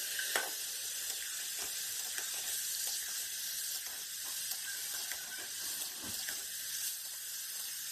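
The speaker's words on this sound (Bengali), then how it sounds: "এখন মাংসটা দিয়ে ভালো করে নেড়ে চেড়ে দেব" Mutton stirred and fried with browned onions in a pan, a steady soft sizzle with faint scraping and clicking from the stirring, no talk.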